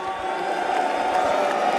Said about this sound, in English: Cheer if you want him.